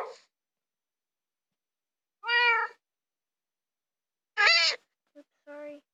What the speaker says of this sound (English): now let's get another kitty